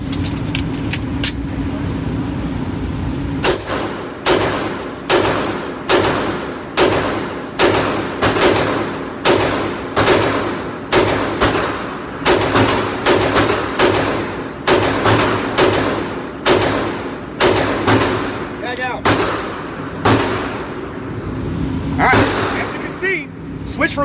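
Glock 19 pistol shots crack out in a long, fairly even series of loud, close reports, roughly one every second, with brief pauses and faint talk between some shots at an outdoor range.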